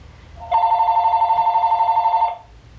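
Telephone ringing indoors: a single loud electronic ring with a rapid warbling trill, lasting under two seconds and then stopping, with no voices.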